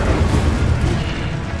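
Incendio fire spell in Hogwarts Legacy, a loud, steady whooshing roar of magical flame with a booming low rumble that fills the whole short moment without pause.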